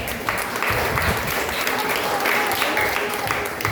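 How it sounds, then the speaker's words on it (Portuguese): A church congregation claps steadily and densely for a woman after her hymn, continuous applause filling the room with a voice faintly underneath. "Palmas para minha esposa."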